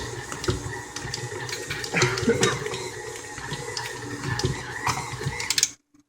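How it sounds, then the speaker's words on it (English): A stand mixer kneads pizza dough, giving a steady mechanical whir with rhythmic knocking and slapping as the dough turns in the bowl, close and continuous until it stops abruptly. "Once it starts making that noise on the mixer, mix it a little bit faster."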